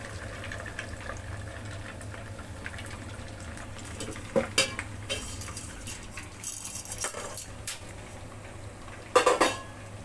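A potato and cheese ball mixture is stirred in a pan, with faint scraping and scattered clinks of a utensil against metal that grow sharper toward the end over a low steady background hum.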